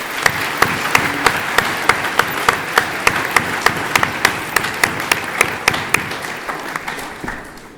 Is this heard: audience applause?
yes